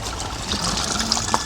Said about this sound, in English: We add some water to it.